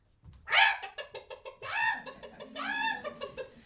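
Several chickens cluck and squawk in a series of nasal, rising calls, fairly close and continuous.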